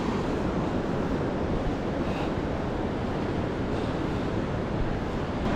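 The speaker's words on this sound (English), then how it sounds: "just heading into the Kuta beach, just to give you a bit of a look at Kuta beach" Surf and wind at Kuta beach in Bali make a loud, continuous rushing roar of breaking waves mixed with gusty wind buffeting the microphone, steady from start to finish.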